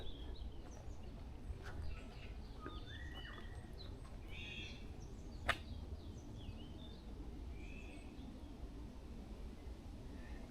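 Faint scattered bird calls in a quiet Korean mountain forest at Bongseosan: short chirps and whistled notes spaced irregularly over a low steady background hiss, with one sharper click near the middle.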